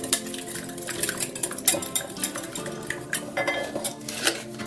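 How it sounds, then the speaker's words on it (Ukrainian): Eggs lightly whisked in a bowl with a metal whisk, a quick run of close, bright clinking taps against the bowl's side, irregular but continuous. "Збиваємо їх легенько вінчиком."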